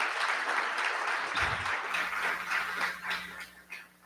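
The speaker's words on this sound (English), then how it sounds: "I want to give a round of applause." Audience at a Hellenic Foundation event in Chicago applauds warmly, a steady wash of clapping that thins slightly toward the end, with a faint hum joining partway through.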